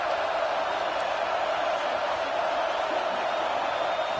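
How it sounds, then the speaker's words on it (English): A football stadium crowd roars on a third down at an Ole Miss game, a dense, steady wash of cheering and whooping that stays loud and unbroken throughout. "Third down, and the crowd really getting into it."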